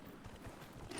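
Game horse hooves clip-clop in a short, steady patter, moderately loud against a soft background.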